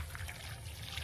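Water trickles and splashes as it is poured onto freshly filled soil around a newly planted horn banana plant, a soft steady pour, faint and close with no voices.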